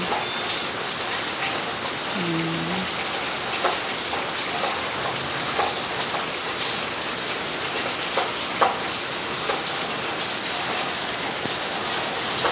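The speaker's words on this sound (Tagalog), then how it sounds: "Maulan kasi ayun. Makasang ulan ay." Steady rain pours down, a dense continuous patter with occasional louder drops hitting nearby surfaces, and no talking.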